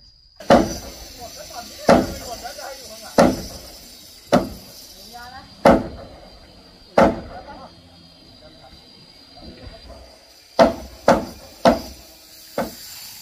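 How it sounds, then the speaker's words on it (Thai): Heavy wooden knocks from a large mallet driving wooden tenon joints together, about ten sharp blows in uneven rhythm, loud and close with brief pauses between. "ใช้ค้อนปอนขนาดใหญ่ตอกเข้าลิ้นเดือยทั้งหมด"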